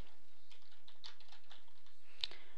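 A file name typed on a computer keyboard while saving a Photoshop logo, with quick light keystrokes in an irregular burst and a slightly louder key press near the end.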